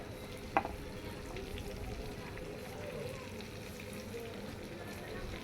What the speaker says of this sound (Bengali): দর্শক দেখতেছেন এখানে ফ্রাই ভাজা হচ্ছে